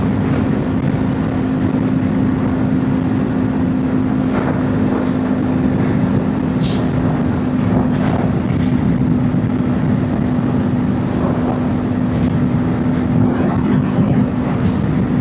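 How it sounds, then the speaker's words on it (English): A 2024 Kawasaki Ninja 500 motorcycle cruising at 70 mph, heard from the rider's position as a steady engine drone with a constant hum, buried under continuous loud wind rush throughout. "Ninja 500. Just cruising, going 70."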